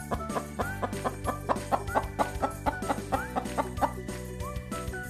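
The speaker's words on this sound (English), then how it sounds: "This is a chicken." A chicken clucks in a quick series of short, close calls against a backdrop of light, steady music.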